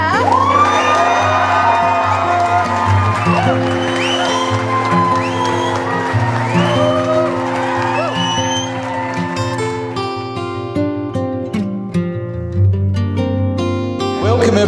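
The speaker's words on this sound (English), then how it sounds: "Please be as loud as you like as we cheer out Mr. and Mrs. Spencer." A large crowd of wedding guests at Boturich Castle, Loch Lomond, Scotland, cheers, whoops and shouts loudly and continuously, with music playing underneath throughout.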